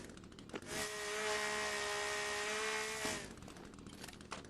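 Chainsaw in The Forest video game revving into a loud, steady whine for a few seconds before cutting off, with ambient game noise around it.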